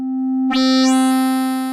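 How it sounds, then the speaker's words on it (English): Steady synthesizer drone from a Furthrrrr Generator waveshaper module, starting as a pure sine tone, then abruptly thickening into a bright buzzy harmonic-rich timbre halfway through and holding steady. "you can get an almost square wave-ish sound if you start with all the controls full counterclockwise, to start with our sine waves"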